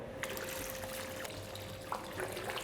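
Annatto colouring poured into milk for traditional Red Leicester cheese, a soft liquid trickle and splash over a constant low hum with a faint steady tone, with a few brief splashy bursts.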